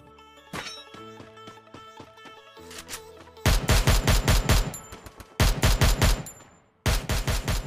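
Automatic gunfire in a battle royale shooter video game: scattered lighter shots first, then three loud rapid-fire bursts in quick succession, close and punchy.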